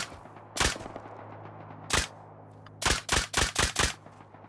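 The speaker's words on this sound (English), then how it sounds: "let's try out this fucking nail gun" A nail gun fires in the survival video game Rust, sharp loud cracks: a single shot, another after a pause, then a rapid run of five shots over a low steady hum.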